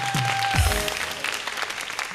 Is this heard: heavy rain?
no